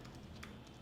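A few quick, faint keystrokes tap on a computer keyboard as a search term is typed, soft clicks over a quiet room hum.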